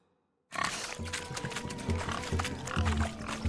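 Pigs grunt and squeal repeatedly in The Witcher 3: Hearts of Stone during a village pig-chasing contest, a loud, busy stretch of animal noise over crowd ambience that starts abruptly.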